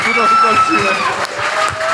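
Audience applause at a stand-up comedy show in Prague, a steady wash of clapping heard close, with a voice talking over it throughout.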